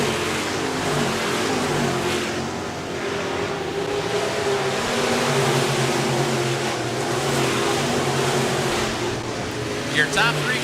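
Engines of several sprint cars on a dirt speedway drone and roar steadily at a distance, a continuous motor hum with no clear passes.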